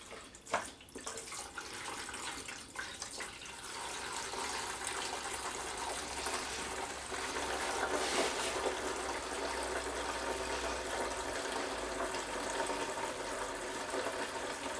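Water gushes steadily from a tap in a video game tavern, a loud, continuous broadband rush that holds for the whole stretch with no talk over it.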